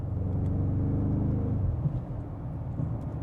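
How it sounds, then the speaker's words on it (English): A BMW G90/G99 M5 with an aftermarket catback exhaust, X-pipe and OPF delete cruises along, its low steady exhaust rumble and engine drone dipping slightly halfway through, heard from inside the car without talk. "So you hear rumble a little bit in the background."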